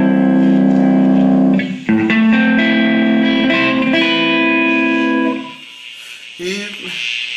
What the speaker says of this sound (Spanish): Enciendes la reverb número 1.